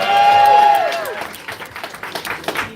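Audience at a political rally in Concord, New Hampshire breaks into cheering and scattered applause, a loud swell at first that thins into uneven clapping.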